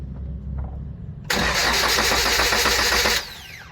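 A Toyota LiteAce engine cranking: after a quiet moment the starter engages with a loud, rapid rhythmic churning that runs for about two seconds and then cuts off without the engine catching.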